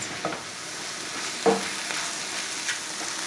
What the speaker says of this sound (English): it's time to add the mushrooms. Saute the mix for about 6 to 7 minutes or until all the liquid is evaporated